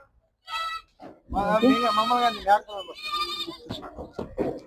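Goats bleat at a livestock market, nannies with twin kids among them, several loud, close, wavering cries in quick succession with brief pauses between.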